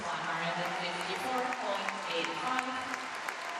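A crowd at an ice dance free dance event at the European Figure Skating Championships in Kaunas applauds steadily throughout, a broad distant wash of clapping under a commentator's voice.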